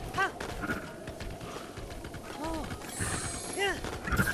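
A skeletal bone horse in Breath of the Wild gives eerie, bleating whinny-like calls, several short wavering cries scattered through the stretch over game sounds, with a voice talking throughout.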